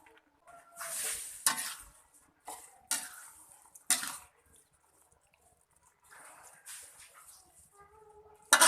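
Drained opak crackers tumble into a thickened, reduced sauce and get stirred around a pan, giving scattered clattering scrapes and utensil knocks, with quiet gaps between bursts.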